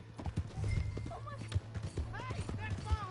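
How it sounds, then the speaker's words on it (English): A horse in Red Dead Redemption 2 clip-clops with irregular hoofbeats and lets out high, wavering whinnies, while voices talk over the sound. "Hey, that's my horse!"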